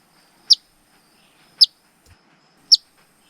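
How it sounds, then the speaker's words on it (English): An Eastern Phoebe parent at its nest of chicks gives three sharp, high chirps, evenly spaced about a second apart, clear and close against near silence. "That could actually be the papa bird, and I suspect it might be because of its chirp."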